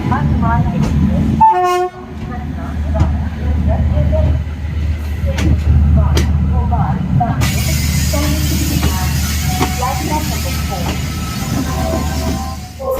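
Andaman Express passenger train running: a loud, steady rumble of wheels and carriages, with a brief horn toot early on and a voice talking over the noise.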